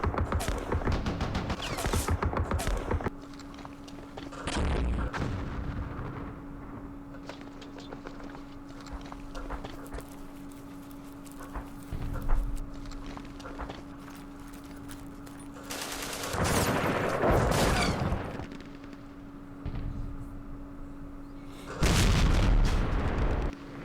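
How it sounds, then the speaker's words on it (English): Artillery fire in the Vietnam war game Campaign Series Vietnam: several loud bursts of booming shell impacts and rattling fire, separated by quieter stretches with a steady electronic hum underneath. "our artillery is coming"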